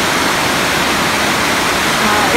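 A creek swollen by recent rain rushes loudly into the wider water system feeding the Buchan River, a close, dense, unbroken roar of tumbling water with no pauses.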